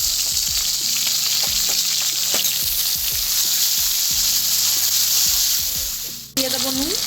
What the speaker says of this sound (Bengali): পেঁয়াজের মধ্যে আদা কুচি দিয়ে একটু ভেজে নিয়েছি এরপর দিয়ে দেবো টমেটো কুচানো